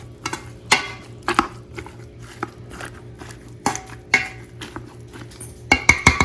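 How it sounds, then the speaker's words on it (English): Cooked Yukon Gold potatoes and butter are worked with an old-fashioned potato masher in a pot, giving irregular knocks and metallic clanks against the pan with soft squishing in between, close and without talk. "I like the old-fashioned potato masher."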